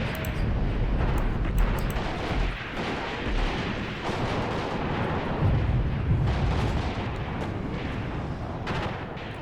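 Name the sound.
Katyusha rocket artillery bombardment in a video game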